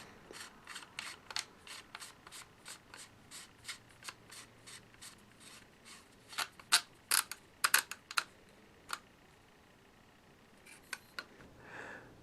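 A magazine tube cap being screwed back onto a Mossberg 590 shotgun, heard as quiet ratcheting clicks and metallic ticks in irregular bursts, close and faint.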